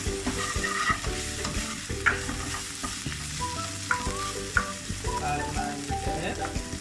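Curry leaves fry in hot oil in a pan with cassava for a spicy cassava masala, giving a steady close sizzle. A spoon scrapes and stirs repeatedly through it, with no talk.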